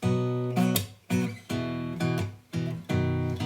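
An acoustic guitar in open tuning strums its low open bass strings in a drone, several ringing chords struck in succession, each sustaining and fading before the next, close and clear.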